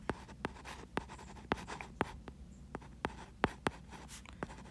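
A pen scratches out notes on a calculus problem in a quick, irregular series of sharp strokes and taps, close and fairly quiet, with no talking.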